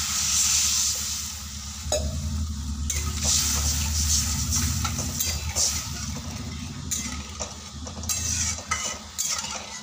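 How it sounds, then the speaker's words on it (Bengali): Water goes into a hot pan for an egg-fritter and potato curry, setting off a bright hiss and sizzle with occasional spoon-and-pan clinks, close and moderately loud over a low background hum. "এবার পরিমাণ মতো জল দিয়ে দিচ্ছি"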